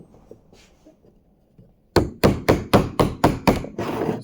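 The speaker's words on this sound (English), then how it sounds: "laying on that 2x4 over there and beating on with a hammer" Eight sharp, evenly spaced hammer blows ring out close up as metal is beaten by hand against a 2x4, following a few seconds of quiet shuffling.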